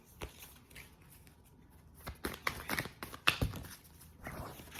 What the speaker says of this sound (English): Let me turn these cards around.